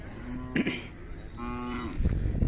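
A Khillar cow lets out a couple of low, drawn-out moos with harmonic tones, fairly close, against a steady background at a livestock fair.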